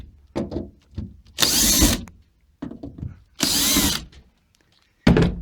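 An electric drill backs screws out of the seat bases of a 1977 Range Rover Classic two-door, in several short loud bursts separated by quieter mechanical clicks and handling noises.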